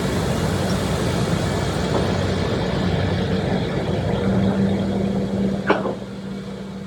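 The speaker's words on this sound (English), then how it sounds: "And as the engines change throttle" Ferry engines shift throttle while the boat docks, giving a loud, steady low rumble with a slight change in tone partway through and one brief knock near the end.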